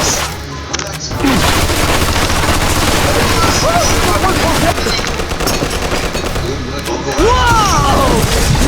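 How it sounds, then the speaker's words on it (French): A grenade blast in Mafia 2 lands as a heavy boom, then a sustained roar of crashing debris and gunfire-like cracks fills the scene, with a second loud burst near the end. "Lance une grenade par cette fenêtre!"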